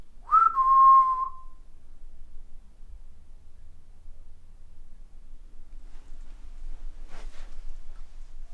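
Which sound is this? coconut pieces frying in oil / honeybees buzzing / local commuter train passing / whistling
whistling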